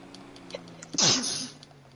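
A single sharp sneeze, close and loud, bursting out over faint steady game background hum during GTA Online play, then fading quickly.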